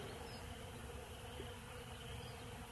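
Dense, steady buzzing of many honey bees close by around a hive feeder, a continuous drone with no pauses and no voices.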